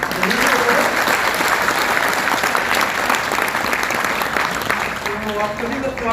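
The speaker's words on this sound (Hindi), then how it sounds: "एक बार जोरदार ताली" An audience at a training seminar applauds loudly and continuously for the speaker, dense clapping that fades slightly toward the end.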